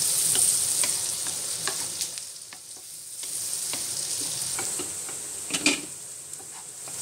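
Chopped onion sizzling and frying in a pan for pav bhaji, a steady close crackle with occasional stirring scrapes and ticks, no voices.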